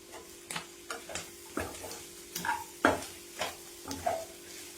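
Goat tripe frying with garam masala in a pan, a soft steady sizzle under about eight distinct scraping stirs of a spoon at a fairly even rhythm, close by.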